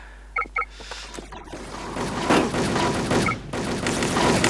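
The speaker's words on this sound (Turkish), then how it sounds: "Onur Ulaş vurdu beni" Video game gunfire rattles in bursts and scattered shots amid a busy, continuous battle background, with a couple of short tonal beeps, at moderate loudness with no clear talk.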